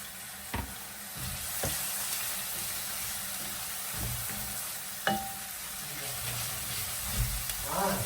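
Carrots frying in a pot for pilaf give a low, steady sizzle under scattered knocks and clatters of stirring utensils, with a brief splash of water near the end.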